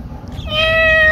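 A ginger cat gives a single loud, close meow that rises and is held clearly, alone and without other sounds.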